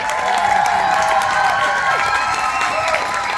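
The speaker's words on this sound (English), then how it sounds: "Can we give them a massive round of applause?" A theatre audience applauds and cheers for young performers at a youth poetry event, with steady dense clapping, whoops and crowd shouts filling the room throughout.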